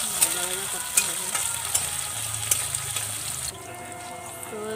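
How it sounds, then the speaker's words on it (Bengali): Chopped onions frying in a pan for tomato chutney, a soft steady sizzle with a few sharp scraping clicks as they are stirred, with a faint tonal hum in the background and no talk. "ওইগুলো ভালো করে নাড়াচাড়া করতে হবে, ভাজা করতে হবে।"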